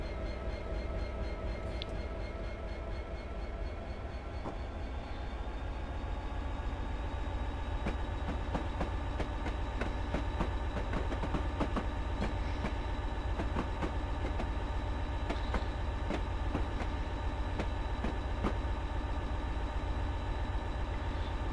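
A train in Train Simulator on the Settle to Carlisle line rumbles steadily along the rails with a continuous engine drone and rhythmic clacking, loud and close throughout, with no voices.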